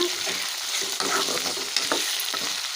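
Tomatoes sauté in a pan for dried shark fish thokku with a steady, moderate sizzle, broken by occasional scraping as they are stirred.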